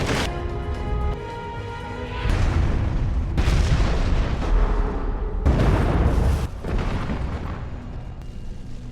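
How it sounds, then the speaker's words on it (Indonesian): A deep, rumbling explosion of a base roars out, followed by a second heavy blast and lingering rumble, loud and close, with dramatic music underneath. "sebentar lagi markas ini akan meledak"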